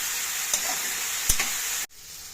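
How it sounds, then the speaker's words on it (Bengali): Potatoes fry with a loud, continuous sizzle in a pan for aloo dum, with a couple of sharp stirring knocks before the sizzle cuts off abruptly. "এবার ভালো করে এটাকে আমি ভাজবো"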